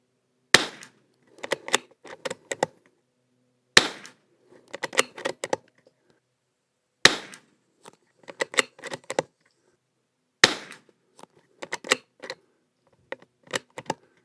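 Christensen Arms Ranger .22LR rifle fitted with a barrel tuner, fired in four sharp, widely spaced shots, each followed by a run of lighter clicks and clacks of bolt cycling and handling.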